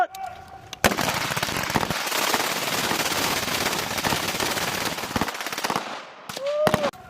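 Rapid sustained gunfire at an outdoor shooting range, a long dense burst of loud, close shots running for several seconds, with a few separate single shots and faint voices before and after.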